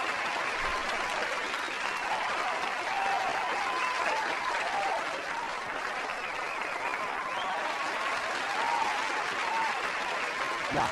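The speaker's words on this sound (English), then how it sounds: "Round of applause, right, guys?" A round of applause during a livestream, a steady unbroken wash of crowd clapping that keeps an even level for about eleven seconds, with no pauses or individual claps standing out.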